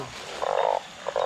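Narrow-mouthed toads croak during heavy rain, two loud buzzy bursts up close, one long and one short, with no voices.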